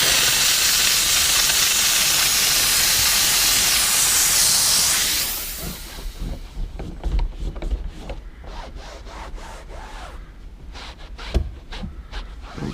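A steam cleaner hisses loudly and steadily while working a stain on the interior of a 1990 Honda Civic, then cuts off, leaving quieter rubbing and scrubbing with occasional knocks.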